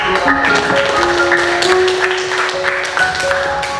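A class of students claps along after a lesson, a busy patter of many hands mixed with a few voices, loud and close in a classroom.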